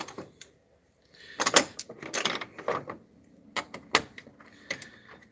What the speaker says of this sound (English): I'll have to go back with my socket and ratchet and break that loose.